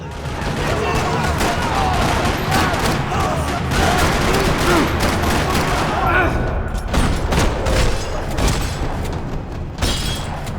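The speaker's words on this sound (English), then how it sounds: "Another parking lot rattling with gunfire." Continuous bursts of gunfire rattle throughout in the video game Max Payne 3, sharp rapid shots layered over a dense, loud background with crashes and booms in a parking lot.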